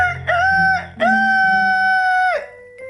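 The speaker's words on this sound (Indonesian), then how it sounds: "suara kokok ayam Jingo terdengar sangat keras" A rooster crows loudly and close by in a storytelling performance, a short call followed by a long, drawn-out crow, with no other sounds around it.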